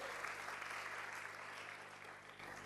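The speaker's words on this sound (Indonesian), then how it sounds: "Tepuk tangan buat Tuhan," Church congregation clapping for God during an Indonesian sermon, a dense, steady wash of many hands held at an even level throughout, with a low hum underneath and no talk over it.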